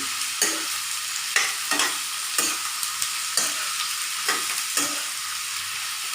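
Onions browning in a pan for sesame chicken curry, a continuous bright sizzle with regular spatula scrapes and stirs roughly every second, close and with no voices.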